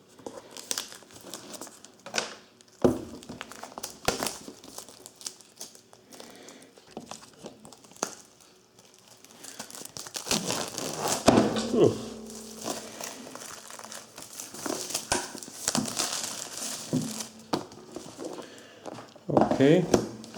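Foil packaging crinkles and tears close up as a 2020 8th-generation iPad is unboxed, with bursts of rustling and crumpling, a louder stretch of handling midway, and a voice talking over it at times.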